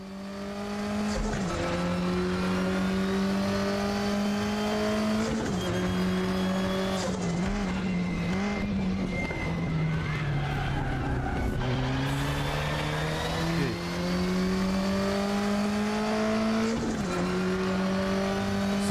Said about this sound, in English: This car sounds very nice